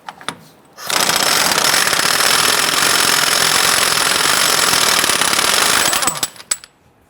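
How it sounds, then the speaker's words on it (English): Impact wrench spinning off a 32mm rear spindle nut on a 2005-2010 Chrysler 300 during a wheel bearing and hub job, a loud continuous rattling hammer of about five seconds that starts and stops abruptly. "Using a 32mm socket, we want to go ahead and remove this nut on our spindle."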